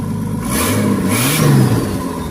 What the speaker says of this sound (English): The reason she idles so poorly, guys, is because there's no idle control setup on this setup.